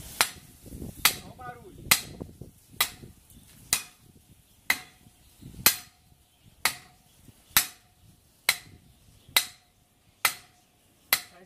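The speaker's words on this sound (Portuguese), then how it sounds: "martelando esse ferro pra dentro na calçada" An iron bar is driven into a concrete sidewalk with a hammer: about a dozen sharp metallic strikes at a steady, roughly one-per-second rhythm, close and ringing, with brief murmurs between blows.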